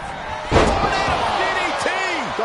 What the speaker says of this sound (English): DDT! Talk about devastation.